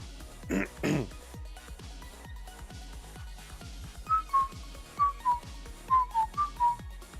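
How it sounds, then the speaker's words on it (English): A person whistles a short tune during a classic Tetris tournament broadcast, a few soft whistled notes in a rising and falling phrase, with low background noise. "Oh no, I whistled. Couldn't help it."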